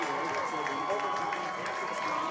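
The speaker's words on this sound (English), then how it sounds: "The fans cheering them on." A college football crowd at an SUU versus USD game roars and applauds steadily throughout, a broad, distant wash of cheering and clapping with no clear breaks, sitting low in the mix.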